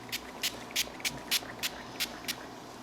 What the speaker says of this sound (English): Take out the spray that we mixed up earlier from some of the project glue, the way it says in the directions, and just spray it on the base.